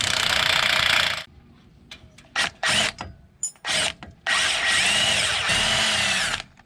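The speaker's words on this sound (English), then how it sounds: "Grab an 18mm wrench and socket and disconnect our lower shock bolt." A power tool runs on the lower shock bolt of a Jeep Gladiator, a long whirring rattle of an impact-style driver followed by several short bursts and a final sustained run, loud and close with no talk.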